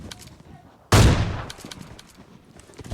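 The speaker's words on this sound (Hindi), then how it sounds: "चुन्नू भाई पता नहीं क्या कराते हैं, इन्हें मारने के लिए 3 गोलियां वेस्ट करनी पड़ती है हमें।" A single loud video game gunshot cracks out suddenly and decays over a second, surrounded by quieter background noise.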